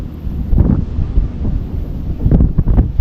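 Strong wind buffets the microphone at a working harbour pier during a fishing outing: loud, low rumbling gusts that swell and fade over a few seconds, with no talk.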